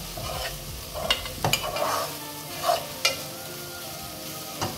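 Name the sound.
spicy cabbage curry frying in pan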